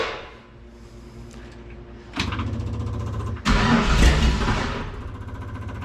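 An old car engine left unused for over 40 years is cranked: a sputtering starter, then a sudden catch around two seconds, and a second louder surge as it fires into a rough, uneven run close by.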